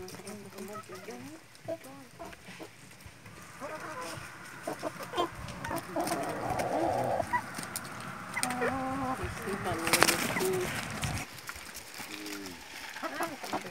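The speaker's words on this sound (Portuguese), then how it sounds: "Galinha caipira do Joinha, do Vicente." Free-range chickens clucking in a farmyard, repeated close clucks and calls mixed with birdsong, while people talk over and between them.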